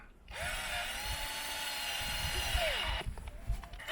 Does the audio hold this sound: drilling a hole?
yes